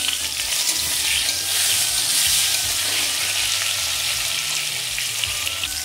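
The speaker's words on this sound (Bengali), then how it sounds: "ওই তেলের মধ্যে আমি ফোড়ন দিচ্ছি তেজপাতা আর গোটা জিরে। এরপর একে একে দিয়ে দিচ্ছি আলু," Bay leaf, whole cumin and potato pieces frying in hot oil, a steady dense sizzle that stays loud and close throughout, with occasional faint stirring or clinks underneath and no talking.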